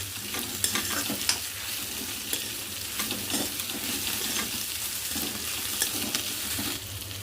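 Coriander leaves being stirred into a chutney mixture in a hot pan: steady sizzling and frying with soft, repeated scraping strokes of a spoon, close and continuous, no talking.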